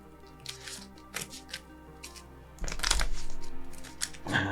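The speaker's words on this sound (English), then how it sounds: "This gets shuffled back in." A card game deck being shuffled back together at a table, heard as scattered soft papery flicks and taps, then a louder riffling burst about midway and a few more near the end, with no talking.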